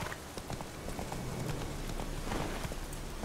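The horse Roach gallops in the video game Witcher 3, a continuous dense patter of hooves blended with broadband noise like rain, steady and fairly loud throughout.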